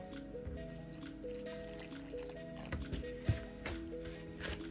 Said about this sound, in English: Then you're going to add your water.